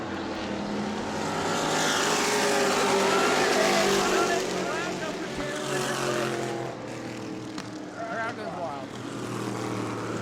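Stock cars roar around an oval track at a family fun night race in New Smyrna, engines droning loud and steady throughout with a commentator talking over them.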